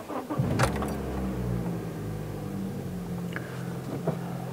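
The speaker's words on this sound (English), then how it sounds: "So now, start the car." A car engine starts and settles into a steady idle during a coolant drain, fill and air bleed job, a low rumble running continuously throughout with a few faint clicks and knocks nearby.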